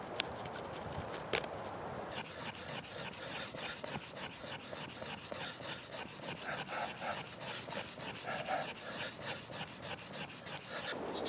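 A wooden fire plow worked back and forth to cut a groove: steady rapid rubbing strokes in an even rhythm, close and continuous, with no talking.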